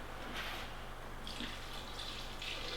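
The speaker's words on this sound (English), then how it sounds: "Always pour the menstruum on top of the herb." An alcohol-and-water mixture is poured over fresh Echinacea root, giving a quiet, close trickle and splash with intermittent bright liquid bursts over low background hum.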